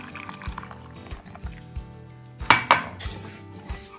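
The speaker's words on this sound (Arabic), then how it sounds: "هضيف عليه 2 كوب مية سخنة مغلية بتغلي بالشكل ده كده عشان ادوب الجيلي" Boiling water is poured from a cup over strawberry jelly packets, a short splashing trickle with clinks of glass and utensils, brief knocks scattered throughout, fairly close and clear.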